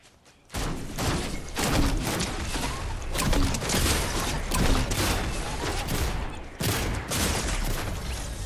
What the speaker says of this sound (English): Oh, fuck, they're shooting at me.